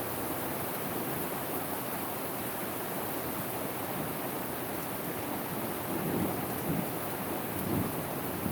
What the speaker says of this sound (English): We've got containers out to get some of this rain.